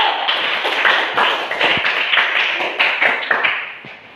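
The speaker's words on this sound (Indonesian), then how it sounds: "tepuk tangan dulu untuk kelompok 1" Classmates clap for the first presenting group in a school class session: several people clapping in a loose, uneven rhythm, fairly close and loud, with distinct individual claps standing out.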